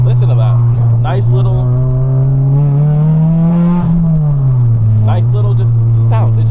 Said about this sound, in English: I can easily floor right now and make a lot of noise